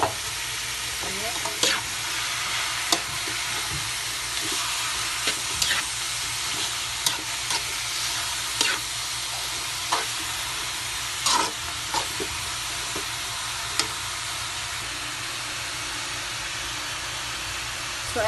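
Ground pork frying in a pan with garlic and onion, giving a steady loud sizzle and hiss throughout, broken by frequent short scraping stirs of a spatula, close up.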